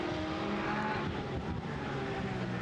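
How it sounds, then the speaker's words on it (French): Porsche GT3 Cup race cars racing at the Zandvoort circuit, a dense, loud wash of engine whine and roar with shifting tones as the cars run close together. "Peut-être en venant sur la ligne droite, en prenant l'aspiration de la Porsche de Rivas."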